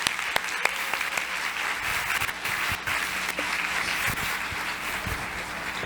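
An audience at a teachers' conference, a pedagogical day event, breaks into applause, steady dense clapping that holds evenly at moderate loudness for several seconds.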